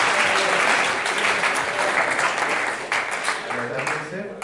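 A group on a campus visit claps in a brief, dense burst of close applause that slowly thins out over a few seconds.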